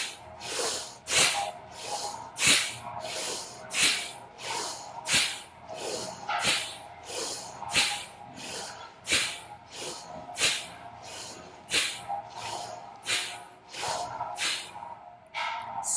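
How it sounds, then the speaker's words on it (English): Deep rhythmic breathing during a guided breathing exercise, about a dozen strong airy inhales and exhales in a steady cycle, close to the microphone with a faint tonal drone underneath. "Take a deep breath in and out and relax"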